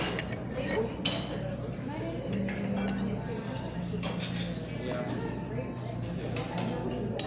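Small spoon clinking against dishes and cutlery in a busy airport setting, light scattered clinks under a steady background murmur and nearby talking.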